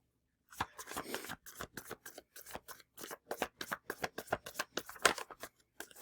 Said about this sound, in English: From Celtic Spirit, 3 cards.